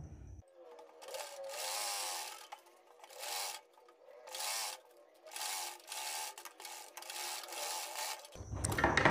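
A sewing machine stitches along a marked neckline on a women's top in several separate runs, each a few seconds long, with short pauses between them and a louder rustle at the end.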